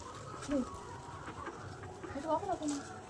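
Domestic chickens clucking at an outdoor Attukal Pongala gathering, a few short clucks at moderate distance rising over steady crowd murmur and talk.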